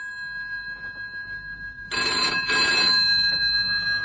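A telephone bell rings in a phone box in a radio drama, sounding in loud repeated bursts of ringing over a steady background hum, with no voices.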